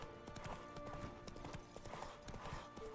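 Horse galloping in Skyrim Anniversary Edition, a steady run of hoof clip-clops with quiet background game sound.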